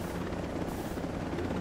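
Helicopter flying in the video game Ghost Recon Breakpoint, a loud, steady, close rotor thrum with dense low-end buzz and no pauses.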